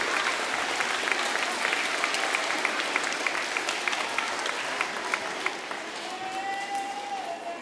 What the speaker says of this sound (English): And now give yourselves a round of applause, please.